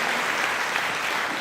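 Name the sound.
congregation applauding in church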